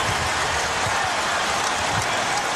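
A crowd in an NBA Finals arena, the Lakers home crowd at Game 1 against the Sixers in 2001, keeps up a steady, loud wash of cheering and roaring with no break.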